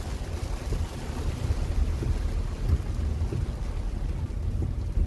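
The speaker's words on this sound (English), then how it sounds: "I can't believe it's still raining." Steady rain and wind noise during flooding in the Texas Hill Country at evening, a dense continuous low rumble and hiss with gusty buffeting on the microphone, sustained throughout with no talking.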